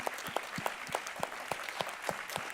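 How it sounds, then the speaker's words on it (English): At the IFPA Forum 2022 conference, an audience applauds the organizing team, with moderate, evenly paced clapping and a few sharper individual claps standing out at a regular rhythm. "really needs a very good clap"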